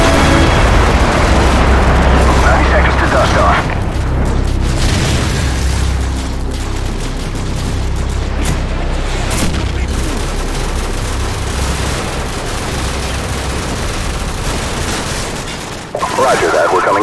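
Airstrike explosions and gunfire in Call of Duty 4 Modern Warfare, loud continuous booming blasts and rattling rifle fire at close range, with shouted battlefield voices mixed into the din.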